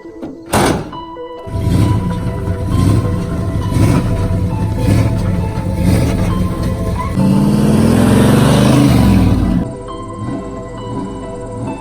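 A 1979 Ford F250 with a rebuilt engine and a huge cam runs loud and close after a sharp thunk, its lumpy idle rising into a heavier rev before dropping back to a steady rumble.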